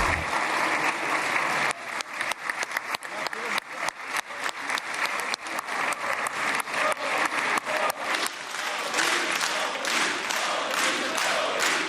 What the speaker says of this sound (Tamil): அந்நாட்டு உறுப்பினர்கள் எழுந்து நின்று கைத்தட்டி